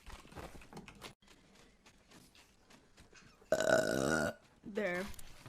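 A person lets out a loud, drawn-out burp followed by a shorter second one, close to the microphone, after a stretch of quieter talk and background noise.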